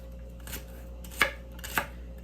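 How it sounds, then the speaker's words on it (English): A knife chops celery into small pieces on a board, with two sharp, distinct chops standing out against a steady background hum. "And then you're gonna begin chopping."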